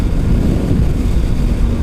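A 2019 Kawasaki Ninja ZX-6R motorcycle upshifts through the gears on a freeway, heard as a loud, close, continuous low engine and wind roar with no distinct breaks and no voices.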